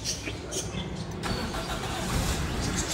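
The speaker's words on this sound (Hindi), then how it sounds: "स्टार्ट हो गई है गाड़ी फाइनली" A car engine turns over and catches after the battery was charged overnight, settling into a steady, close, fairly loud running rumble for the whole stretch with no pause.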